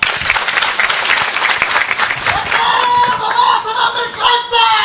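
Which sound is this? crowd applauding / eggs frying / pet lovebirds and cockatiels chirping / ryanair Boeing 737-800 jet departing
crowd applauding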